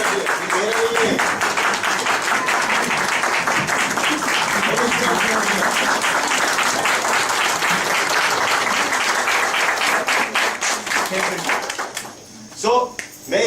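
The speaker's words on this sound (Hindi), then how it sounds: "देखो, मेरे लिए ताली मत बजाओ" Loud, sustained audience applause from a crowd at a health seminar, dense clapping that carries almost the whole stretch before thinning into scattered claps near the end, with a speaker's voice mixed in.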